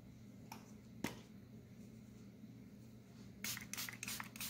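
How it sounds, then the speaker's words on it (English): A few crisp clicks, then a quick burst of several short, hissing sprays from a spray bottle misting water onto acrylic paint close up, over a quiet low hum. "I'm spraying my paint with some water in a spray bottle."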